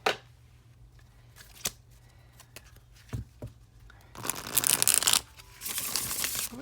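Tarot cards being shuffled, with scattered soft riffles and taps, then a louder, denser burst of rapid card shuffling near the end, close and alone without talk.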